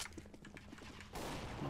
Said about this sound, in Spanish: ¡Disparos, disparos, disparos!